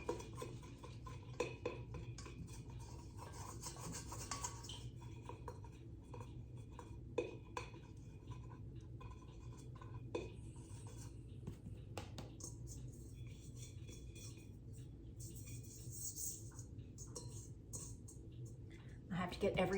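Faint, steady scraping and light clinks come from cinnamon roll dough being worked out of a bowl, with soft taps here and there.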